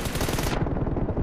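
Rapid automatic gunfire in a mobile shooter game, a dense burst of close, loud shots in quick succession with no talk over it.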